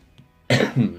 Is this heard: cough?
yes